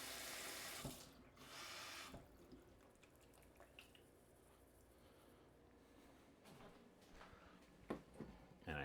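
Cold water runs from a kitchen tap into a sink while cooking, a steady close splash with brief louder bursts near the start and end.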